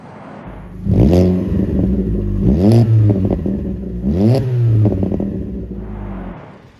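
Car engine close by revving hard three times in a row, each rise climbing quickly in pitch before dropping back, over a steady idle that settles down at the end.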